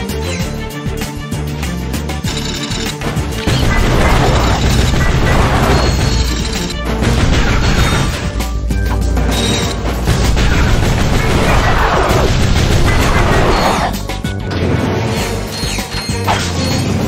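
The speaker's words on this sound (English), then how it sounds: "Press circle to fire your lancer" Lancer gun firing in Ratchet & Clank, giving loud continuous mechanical bursts and crashing impacts over game music and effects, sustained for long stretches with brief pauses between volleys.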